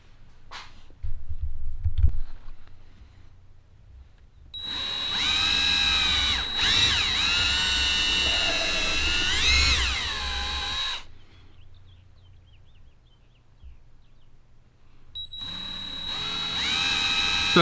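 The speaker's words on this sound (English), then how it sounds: "So I'm gonna get these drilled out" A power drill whirs in long bursts, drilling mounting holes for boat deck lights, its pitch rising and dipping as it bites, with quiet pauses and scattered handling knocks between runs.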